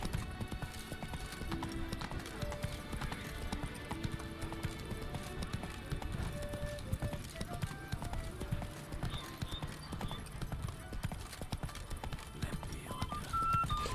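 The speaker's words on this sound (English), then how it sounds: "That wasn't me, that was the horse." A horse's hooves clip-clop steadily in the video game The Witcher 3, a continuous walking rhythm under soft game music, with an occasional whinny and no talking.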